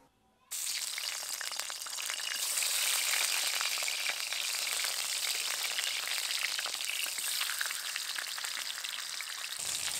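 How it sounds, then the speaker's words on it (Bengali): A rohu fish head, cut in two and rubbed with salt and turmeric, drops into hot mustard oil and crackles into a loud, steady sizzle after a brief quiet start. The dense frying hiss stays close and constant throughout. "এখন এই মাথাটা ভেজে নেব"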